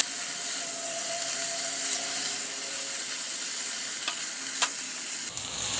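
Frozen ground masala paste is stirred into vegetables frying for pulao, with a steady close sizzle, a few scraping spoon strokes and faint clinks against the pan, and no voice.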